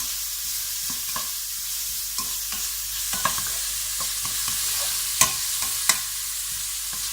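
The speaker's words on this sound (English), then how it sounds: "And I'm going to saute this, or you could really call it sweating, for just a couple of minutes." Chopped leeks sauté in a pan, a steady close sizzle broken by scattered clicks and scrapes of stirring, with two sharper utensil taps near the end.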